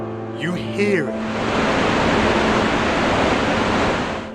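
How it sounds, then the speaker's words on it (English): Iguazu Falls, a massive waterfall twice as tall as Niagara and miles wide, roars as a dense, steady wash of rushing water after a brief shout of excitement at the start. "A waterfall twice as tall as Niagara and miles wide."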